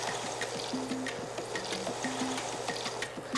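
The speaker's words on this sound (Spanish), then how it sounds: "yo voy a ir agregando mis 2 tazas de agua" Two cups of water poured into a pan of browned sausage and meat, a steady close trickle and splash with faint sizzling beneath, no talk.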